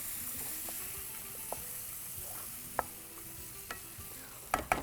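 Garlic sautés in a pan, a quiet sizzle running throughout while a utensil stirs and scrapes with a few soft clinks, louder knocks coming near the end; no talking.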